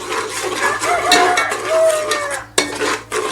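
Biryani masala powder being stirred into chicken in a pot for Thalappakatti-style chicken biryani, with a close metal spoon scraping and clinking against the pot over a soft sizzle, plus one sharp knock near the end.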